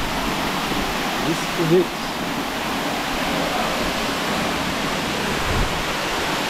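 Choma Falls in Morogoro, an 80-metre waterfall, roars as a steady broadband rush of falling water close by, with someone briefly speaking over it.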